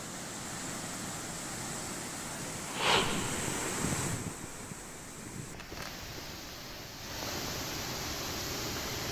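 A broad, constant roar of heavily rushing water from Randha Falls, Maharashtra, in full monsoon flood fills the whole stretch, loud and unbroken, with a brief gust of wind buffeting the microphone.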